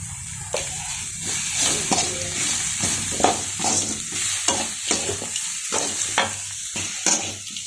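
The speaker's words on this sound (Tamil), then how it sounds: "இது நல்லா வதங்கட்டும்." Sizzling and frying of masala with curry leaves and turmeric in a pan, with repeated scraping stirs of a spatula, a steady hiss underneath and close, busy clatter throughout.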